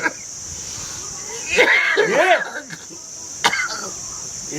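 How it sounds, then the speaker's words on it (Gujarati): A few rough, hoarse coughs close by from a sick man coughing up blood, with a steady insect-like hiss running throughout. "તને ખાંસી આટલી બધી?"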